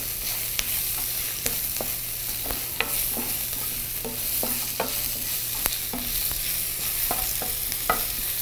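Peppers sauté in a pan, giving a constant soft sizzle with repeated sharp scrapes and clicks of stirring at irregular intervals, close up and without voices.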